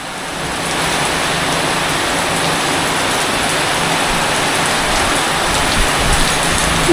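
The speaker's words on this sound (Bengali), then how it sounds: "জোর বৃষ্টি হচ্ছে" Heavy rain pours down in a dense, steady hiss of countless drops striking surfaces, loud and unbroken from start to finish with no voices.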